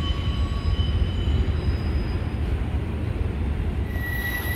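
A train crosses a railroad bridge over the Colorado River near Yuma, giving a steady, loud rumble with faint high wheel squeals throughout, and no talking.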